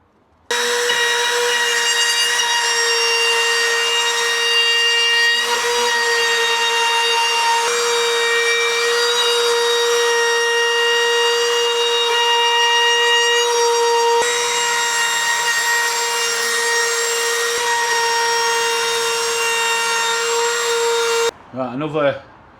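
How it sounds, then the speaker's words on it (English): A wood router fitted with a small chamfer bit cuts wood with a steady, loud, high-pitched whine that runs almost without a break, then stops abruptly near the end. "I'm just using a little chamfer bit, and I've set it to sort of size I want"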